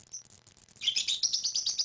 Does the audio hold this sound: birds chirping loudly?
yes